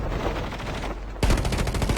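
Rapid bursts of video game gunfire from a player's favorite guns in a clan match, starting after a second of quieter game ambience and rattling on as a loud, dense automatic volley to the end.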